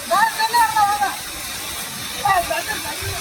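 Water gushes steadily at Hidden Falls in the Kalvarayan Hills near Salem, a constant broad rushing hiss close by, with a voice speaking briefly over it at the start and again later.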